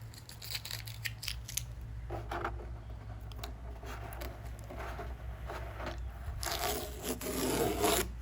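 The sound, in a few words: masking tape being peeled off watercolour paper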